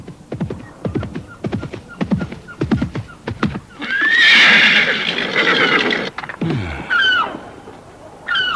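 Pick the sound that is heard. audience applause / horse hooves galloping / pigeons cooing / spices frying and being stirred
horse hooves galloping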